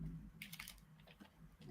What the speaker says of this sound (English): We're doing some typing here.